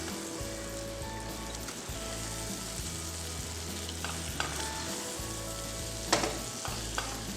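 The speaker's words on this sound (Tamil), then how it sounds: "இப்போ இந்த மசாலா கூட நல்லா மிக்ஸ் பண்ணிக்கலாம் கத்திரிக்காயை" Eggplant being stirred with masala in a pot of hot oil for Nellore-style ennai kathirikai: a steady close frying sizzle with scraping stir strokes and a few sharp clicks of the spoon, no voices.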